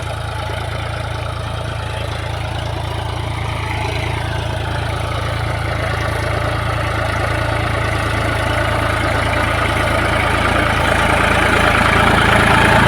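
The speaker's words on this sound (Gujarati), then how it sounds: "ફોર બાય ફોર સોલિસ ટ્રેક્ટર હે પચાસનું" A 50 hp four-wheel-drive Solis tractor engine idles close by, a steady low drone with a constant mechanical rumble and no pauses.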